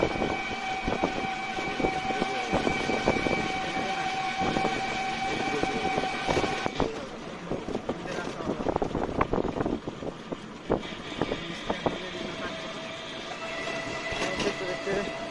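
A train pulls into a rural station at night, its wheels clattering and rumbling with a faint horn-like tone, heard fairly quietly and from a distance.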